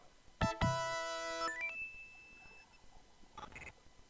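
A motion sensor in the video game Flashback gives electronic beeps: a couple of sharp tones followed by a descending chime sequence, then a fainter pair of beeps later, fairly quiet overall.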